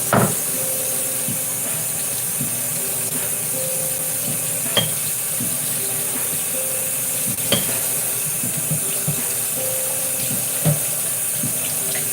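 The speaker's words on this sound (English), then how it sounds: "I'm gonna give these a rinse really quickly." Water runs steadily from a kitchen tap as bowls are rinsed in the sink, a continuous close splash with occasional clinks of the bowls, and no talking.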